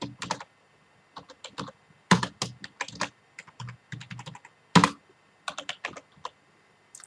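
Close computer keyboard typing in quick irregular bursts of key clicks, with brief pauses and a few louder keystrokes, no talking.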